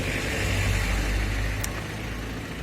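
Cars drive past on a street, a low steady traffic rumble swelling and fading at moderate distance, with a brief high hiss near the end.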